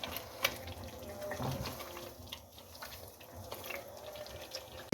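Water pours into a pan of nargisi kofta curry with mustard-seed tempering, a steady splashing and running stream heard close up throughout, with no talking.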